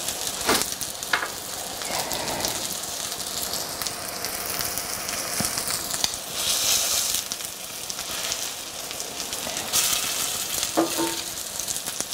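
Cabbage hashbrowns frying in a pan give off a steady crackling sizzle, close and continuous, with occasional sharper pops and scrapes.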